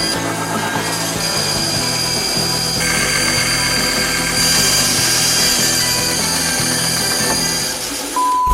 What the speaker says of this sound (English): I had to get a bit creative with cutting up this shoe